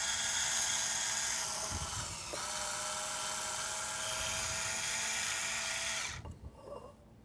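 A Waring Pro WO50 cordless electric wine opener whirs steadily with a high motor whine while pulling a cork from a wine bottle, close by, then cuts off, leaving a few light handling clicks.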